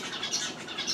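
A pet bird calls indoors in a continuous high chirping and tweeting over a second, fairly close and steady, with no talk over it.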